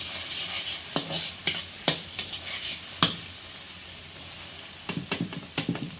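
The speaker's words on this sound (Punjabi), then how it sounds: "ਹੁਣ ਇਹਨਾਂ ਨੂੰ ਆਪਾਂ ਚੰਗੀ ਤਰ੍ਹਾਂ ਭੁੰਨ ਲੈਣਾ ਪਿਆਜ਼ਾਂ ਨੂੰ" Onions frying in a pan for a bitter gourd masala, a moderate sizzle broken by a series of sharp stirring scrapes and clacks, with no talking.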